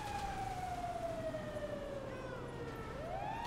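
A fire truck siren in the GTA video game wails faintly in a steady, slowly falling tone before rising again near the end, heard alone without talk.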